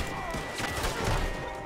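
Gunfire from the Western video game Red Dead Online, with a quick burst of shots and dull impacts packed close together over low background noise.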